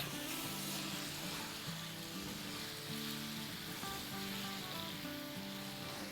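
Chicken pieces with onion fry in oil or ghee over a high flame, making a continuous soft, even sizzle like distant surf, heard faintly and alone under a quiet tonal background.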